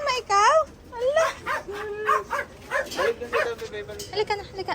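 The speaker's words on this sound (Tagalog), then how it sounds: "Lumabas niya ang aso!" A dog gives repeated yips and bow-wow barks that rise and fall in pitch, loud and close. People talk around it.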